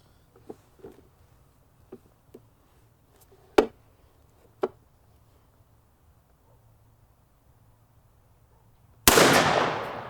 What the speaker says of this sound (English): Gonna be shooting out of the A400 and the pattern Master Code Black.